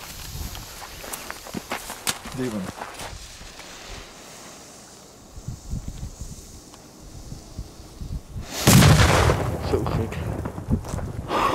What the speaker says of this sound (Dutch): Heerlijke knallers